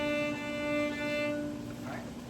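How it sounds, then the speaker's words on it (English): Beginning middle school orchestra string instrument playing a détaché bow stroke, a sustained bowed tone with steady pitched harmonics for about a second and a half before fading into room noise, heard alone at moderate level. "Détaché just means moving our arm back and forth."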